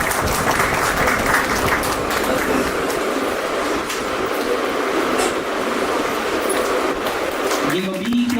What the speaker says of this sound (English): Please give a big round of applause to Dr. Kumar ma'am.